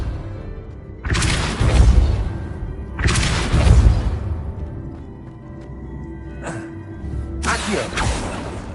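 Depulso spell cast in Hogwarts Legacy, three loud whooshing blasts with booming, thudding impacts spaced a couple of seconds apart, close and forceful over a low game ambience.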